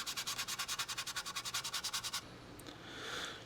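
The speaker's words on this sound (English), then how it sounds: "But for really knocking it down, nothing beats wet sanding." Wet sanding on a model aircraft wing gives a rapid, rhythmic back-and-forth rubbing of about two dozen quick strokes, close and soft, then stops into quiet handling noise.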